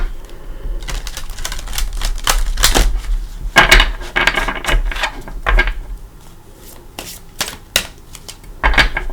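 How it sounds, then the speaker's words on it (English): A deck of cards, likely tarot, is shuffled repeatedly by hand, crisp riffling bursts and clattering flicks in irregular clusters, close and clear with no talk. "I do want to just shuffle for a minute or two"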